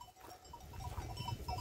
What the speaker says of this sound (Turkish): Şu karşıda da bir tane sürü var. Koyun sürüsü.